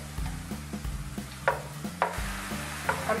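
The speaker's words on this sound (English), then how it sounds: "I'm cooking the frozen cauliflower, sauteing it and getting it all cooked where it's not frozen anymore." Frozen cauliflower sautéing in a pan: a steady sizzle with soft scraping stirs and a few sharper clinks of the utensil against the pan, close by and with no talking.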